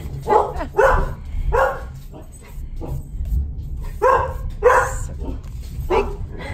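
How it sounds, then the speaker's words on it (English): Dogs barking at claps of thunder indoors, a series of loud close woofs in uneven bursts with brief yips between them. "Big claps of thunder caused the dogs to bark."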